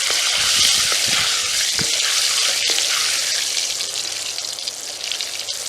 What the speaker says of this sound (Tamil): பாருங்க, எண்ணெய் கொதிச்சுட்டு பூரி ரெடியா வர போகுது